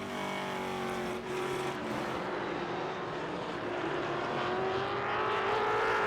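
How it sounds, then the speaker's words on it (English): A TA2 race car with Adrian Lostowski aboard screams around World Wide Technology Raceway, a loud onboard engine note holding high and rising steadily through the gears, continuous and close. "Adrian Lostowski on board with a great sounding car"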